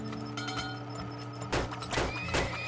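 Horses in the oil-drilling video game Turmoil, a few quick whinnies and hoof thuds rising over a bed of game music, brief bursts close together near the end.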